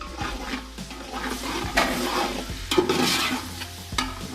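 Whole spices (black cardamom, cinnamon sticks, bay leaves, cloves and star anise) are stirred in a pot for beef yakhni pulao, giving close scraping and rustling strokes over a low sizzle, with no talking.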